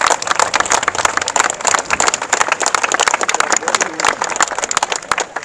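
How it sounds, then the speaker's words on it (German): Thunderous crowd applause and clapping at a rainy MSV Duisburg football team training kickoff and squad presentation in Westende, dense and continuous throughout, with steady sharp claps filling the whole stretch. "Einen donnernden Applaus zum Trainingsauftakt bei uns hier in Westende"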